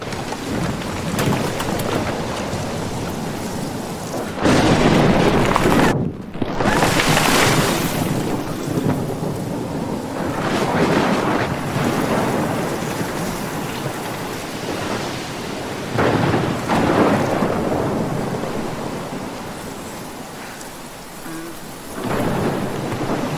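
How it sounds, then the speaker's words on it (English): A heavy thunderstorm in Oregon, with steady loud rain hammering down and deep rolling thunder that swells and fades several times over the whole stretch, with no talk. "I've never seen a storm like this in Oregon."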